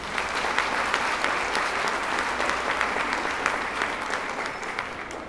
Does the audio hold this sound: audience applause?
yes